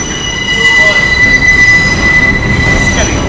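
A New York City subway train in 1993 rumbles along loudly with a sustained high-pitched wheel squeal running over the steady roar for several seconds.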